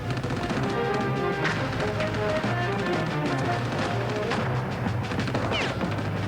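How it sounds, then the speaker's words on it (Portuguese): Scattered gunshots and crashes ring out at night at an old airport terminal over a dense, noisy backdrop, with sharp bursts recurring irregularly throughout. "Tiros enchem o ar noturno."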